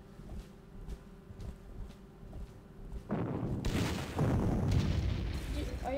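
Artillery fire in the Panzer Corps strategy game, a burst of loud booming blasts that erupts midway and continues as dense, rumbling explosions over a quieter background.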